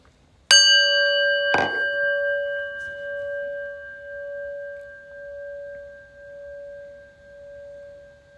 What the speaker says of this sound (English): So I'm going to ring the prayer bell here.